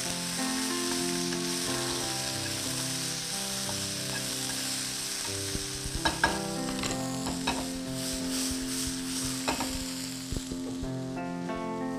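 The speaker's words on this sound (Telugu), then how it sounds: "చక్కగా స్టర్ ఫ్రై చేసుకోవాలి." Vegetables being stir-fried in a pan, with a continuous sizzle and repeated spatula scrapes and clatters, busier in the second half, while steady tonal background music plays over it and no one speaks.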